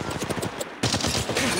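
Bursts of automatic weapon fire in the Apex Legends Mobile video game, a quick volley, a short gap, then another rapid burst, close and loud.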